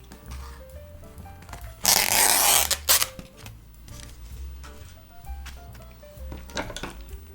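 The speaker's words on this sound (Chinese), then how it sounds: "要把这边那个汤切口先撕开来。 我们先来把汤先一部分倒入那个汤包粉里面" An instant noodle soup packet is torn open and the soup poured into the seasoning powder: one loud, dense tearing-and-pouring burst of about a second, close by, with quieter handling clicks and a soft music bed around it.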